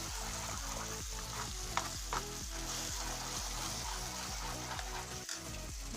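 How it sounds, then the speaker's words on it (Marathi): Pav bhaji vegetables stirred in a hot pan, a loud close sizzle under regular scraping strokes of a spoon that repeat roughly every half second, with a couple of sharper clinks. "आता सगळं हलवून घ्यायचं."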